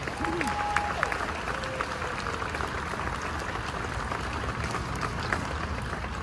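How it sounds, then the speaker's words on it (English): Steady applause from the audience at the Pixar Place Hotel grand opening ceremony, a dense even wash of clapping throughout, with a brief tonal sound early on. "So let's have a round of applause for all three of those groups."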